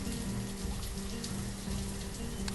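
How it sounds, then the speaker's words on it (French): Steady rain falling in the village-building game Banished, a dense continuous hiss of drops with a low rumbling bed underneath, even in level throughout with no voices. "on entend toujours le bruit de la pluie"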